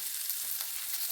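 Crushed garlic and chopped onion fry in hot oil, giving a steady close sizzle with a faint scrape of stirring underneath and no voices.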